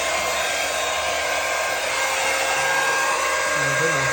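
A flathead hair dryer blows steadily on its low setting, a constant airy whoosh held close throughout.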